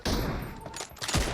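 Gunfire in the mobile shooter BGMI during a one-on-one match: a dense burst of rapid shots, loud and close, running throughout.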